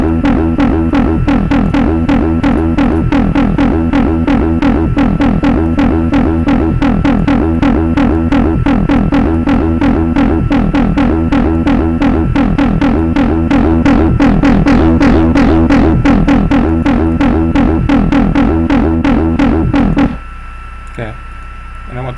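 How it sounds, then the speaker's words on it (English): A bassline run through overdrive distortion throbs in a loud, steady pulsing pattern for about twenty seconds before stopping abruptly, leaving a low residual hum. "So I'm going to put an overdrive on it. This is a nice balanced distortion."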